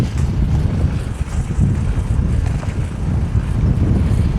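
Loud, gusty wind batters the microphone with constant low rumbling and flapping, strong and unbroken throughout.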